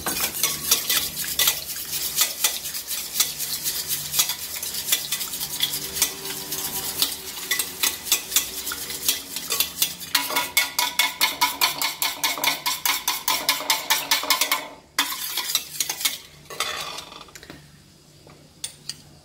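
Karantika batter being beaten with oil in a bowl, heard as fast, steady rhythmic whisking and clattering of a utensil against the bowl, close and loud, then slowing and stopping near the end.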